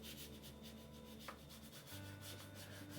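A palette knife scrapes paint onto a misty landscape canvas of trees, a hut and water, giving soft, continuous rubbing strokes, close and quiet, with no talking.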